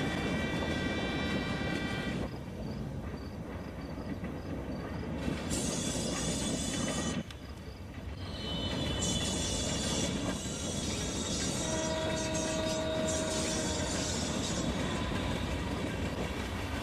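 A long train rolls past in the video game Life is Strange: Before the Storm, a loud, steady rumble and rattle of wagons that runs continuously without a break.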